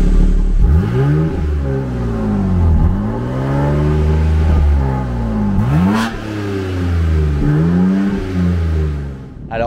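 A BMW M4 Competition G82 with stage 2 tuning and its exhaust valves closed revs repeatedly, each loud blip rising sharply then falling back to idle, several pulls in a row heard up close and without talk.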